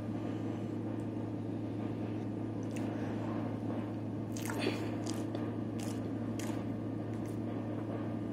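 Someone eats baked yams topped with marshmallows and cinnamon, with soft, close squishy chewing and a few crisp bites over a steady background hum, no talking.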